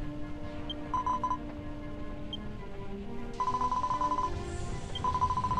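Telephone call tones in the Dragon Quest X video game: short electronic ringing bursts repeat three times over a steady low game music bed.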